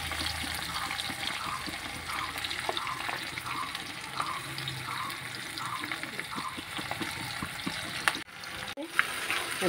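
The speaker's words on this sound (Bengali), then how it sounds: "আমি আলু ভাজার এক তেলেই দিয়ে দিছি পেঁয়াজ কুচি" Steady oil sizzle of chopped onions frying in a pan, in oil left from frying potatoes, a dense crackling hiss throughout with a few clinks of stirring near the end.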